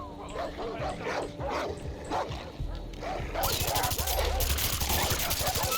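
Several dogs bark and yip repeatedly in Far Cry 3, a dense overlapping chorus of barks with gunfire-like bursts and game noise mixed in, loud throughout.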